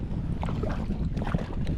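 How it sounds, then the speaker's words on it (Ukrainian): Steady wind buffets the microphone on a lake, a constant low rumble with faint splashes of water now and then, no voices. "Трошки вітер, можливо, вам буде чуть-чуть шумно."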